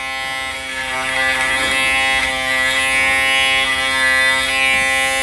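An Aberlite Touch 2 electric head shaver buzzes steadily while shaving a head, a close, constant motor hum with a slight rasp as it passes over short hair.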